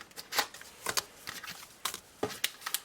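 Cash envelopes are handled and put away, making quick papery rustles and soft slaps in uneven bursts, close and fairly quiet.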